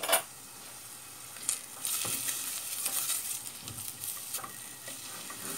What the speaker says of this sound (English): I'm going to stir that and just mix it up until it starts to change colour